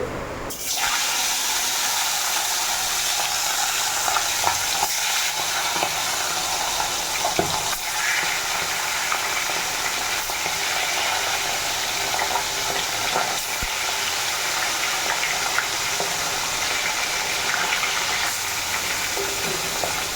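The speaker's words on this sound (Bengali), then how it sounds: "ফাইনালি একবার মতো মাছটা ভাজা হলো তুলে নেওয়া হলো তারপর আবার সেকেন্ড বার হবে" Large pieces of fish fry in a pan with a loud, unbroken hissing sizzle that lasts about twenty seconds, broken only by a few faint clicks.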